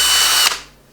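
A Parkside power drill whines loudly at high speed while boring into an RC car body, then abruptly stops and spins down to silence in under a second.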